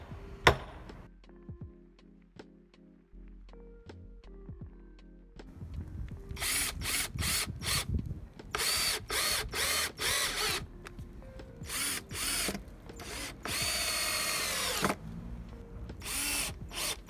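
Power drill driving screws into cedar stakes at the corners of a raised garden bed, in repeated bursts of whirring separated by short pauses, loud and close, with no speech.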